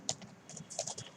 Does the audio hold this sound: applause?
no